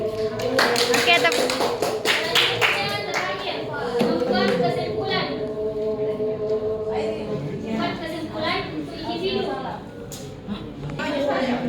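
Classroom applause during a teaching practice session, a burst of hand claps and taps from students near the start, then fading under continued talk from the teacher and children's voices.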